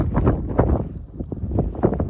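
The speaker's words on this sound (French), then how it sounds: "Un vent fou." Strong wind by a river buffets the microphone in rough, continuous gusts, a dense low rumble with no voices.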